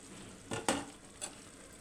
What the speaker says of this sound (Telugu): ఇప్పుడు ఈ గ్రేవీ బాగా చిక్కపడేలాగా దగ్గరకు వచ్చే వరకు ఉడకనిద్దాం